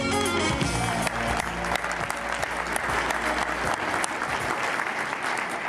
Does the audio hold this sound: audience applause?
yes